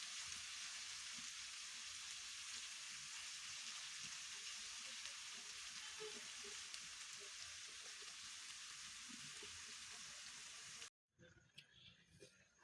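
Small moya fish crisping in oil on a stove, a steady hiss and crackle of frying that runs evenly for about eleven seconds, then cuts off abruptly, leaving faint clatter.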